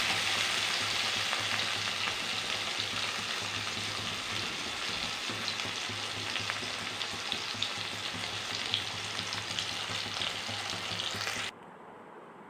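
Tomatoes softening in a hot pan for potato masala, giving a continuous close frying sizzle with light stirring textures that cuts off near the end, leaving quiet room tone.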